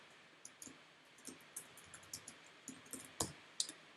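A computer mouse clicks on a name in the Cognitopia software, about a dozen soft, quiet clicks scattered irregularly over a faint background hiss.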